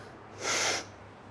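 A single sharp, forceful inhale through the nose, like a snort, taken during a kettlebell swing, brief and close, with quiet room tone before and after.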